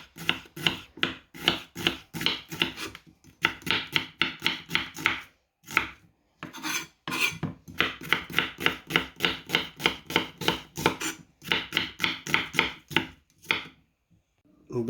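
Onions being finely chopped for green onion pakoras, a steady run of close, crisp knife strikes on a cutting board in quick rhythmic bursts with brief pauses, no talking.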